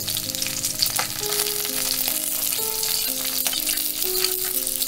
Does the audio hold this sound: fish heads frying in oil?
yes